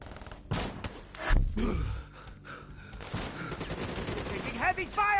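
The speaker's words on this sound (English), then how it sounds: "Taking heavy fire!" Heavy gunfire from the Call of Duty Black Ops 3 campaign, with bursts and impacts that rise and fall amid other battle noise, and voices breaking in briefly over the mix.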